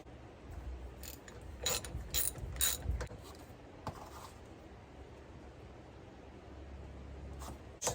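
Ratcheting wrench with a 9/16 inch socket works loose the bolt holding a Humvee half shaft, short bursts of metallic clicking in a quiet garage, with a low hum underneath.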